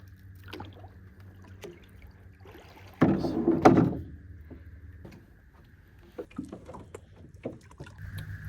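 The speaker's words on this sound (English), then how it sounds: "now we're just going to row to the shore, letting out the loop of anchor line as we go" A dinghy is rowed toward shore in the Gulf Islands of British Columbia while anchor line is paid out, with soft oar strokes and water sloshing, and one louder splash-and-creak burst partway through.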